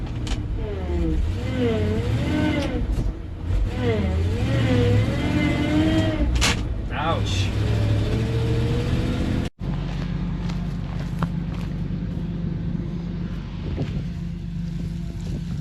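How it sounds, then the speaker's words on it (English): A 1970s 3-ton truck hauling silage on a farm, its engine a loud continuous rumble with wind buffeting the microphone, a short exclamation partway through, then a steadier lower drone after a brief cut. "There's something about hauling silage in a 1970s 3-ton."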